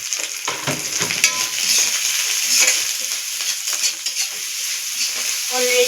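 Ginger, garlic and onion sizzle steadily in a hot pan while a utensil scrapes and stirs through them in short, repeated strokes, close and continuous without any talking.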